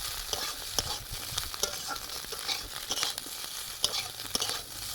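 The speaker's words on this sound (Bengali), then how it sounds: "ডিমগুলো ভালোভাবে কুচু কুচু করে মাখিয়ে দিলাম ওর সাথে এবারে ভাজতে থাকছি" Fish roe mixed with seasoning fries in a pan with a steady sizzle. Sharp spatula scrapes and stirring knocks come through at irregular intervals, with no voices.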